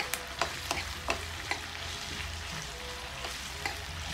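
Potato masala with plenty of onions frying in a pan, a loud continuous sizzle broken by occasional sharp spatula knocks and scrapes.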